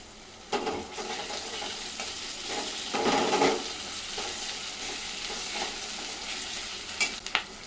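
Curry leaves go into hot oil in a pan, giving a continuous sizzle and crackle with a few stirring clinks and brief louder spatters.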